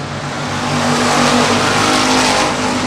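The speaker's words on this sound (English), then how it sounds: "25J giving the 9 a little push down the front straightaway." Race cars roar down the front straightaway at Texana Raceway Park during a season championship night, a loud sustained engine drone with steady harmonics that builds slightly and holds for the full stretch.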